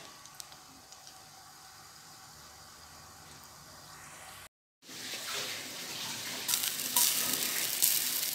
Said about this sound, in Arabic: درت واحد شويه ديال الزيت، نخليه على ما يسخن مزيان.